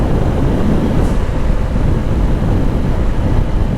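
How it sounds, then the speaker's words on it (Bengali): Strong wind roaring over a motorbike rider on a highway, a loud, steady, broadband buffeting rush that fills the whole stretch without a break. "ভাই প্রচুর পরিমাণ বাতাস বুকে আসে লাগতেছে।"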